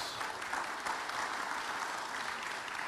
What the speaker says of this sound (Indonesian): Kita beri tepuk tangan buat Pak Lukas.